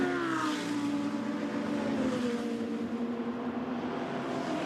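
GT2 race cars accelerate past the pits at Monza, a loud blaring engine note sweeping by and falling in pitch as the cars pull away, backed by a wash of distant track noise.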